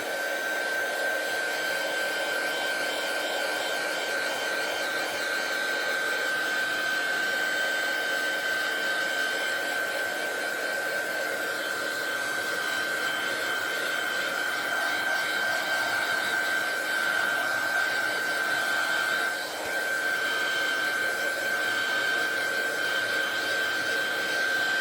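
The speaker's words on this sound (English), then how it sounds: "I think I'll give it a blast of the heat gun." A heat gun blows a steady, loud whirring roar with a faint high whine, drying stamped ink on black cardstock for about twenty-five seconds without interruption.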